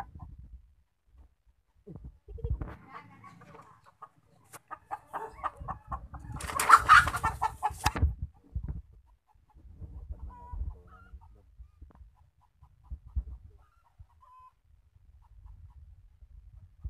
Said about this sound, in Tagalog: Saba ang manok guys. Nabulabog na guys.